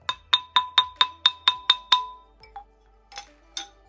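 A xylophone played with hard mallets sounds eight sharp, bright strikes at a steady pace with crisp attacks, followed by a few softer, scattered taps.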